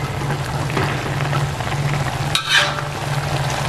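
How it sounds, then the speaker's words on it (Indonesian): Napa cabbage tossed and stirred in a hot frying pan, a continuous sizzle with scraping spatula strokes and a brief burst of louder hissing as the leaves are turned. "Baru kita masukin sawi putih, kita aduk supaya rata."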